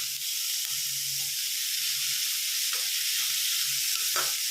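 Beetroot sautéing in a pan for beetroot chutney, with a dense, steady sizzle and hiss, broken by a few faint stirring scrapes.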